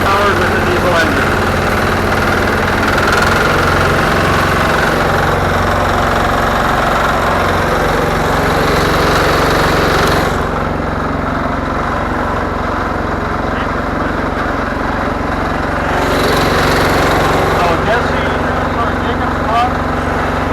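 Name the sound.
garden tractor repowered with a diesel engine idling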